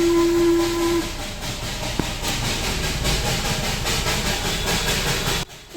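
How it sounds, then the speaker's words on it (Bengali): The Darjeeling toy train passes at Ghum station. A sustained whistle tone opens the sound, then a steady hissing, rumbling roll of the train runs on before cutting off abruptly. "দার্জিলিংয়ের বিখ্যাত টয় ট্রেন দেখা মিস করিনি কিন্তু"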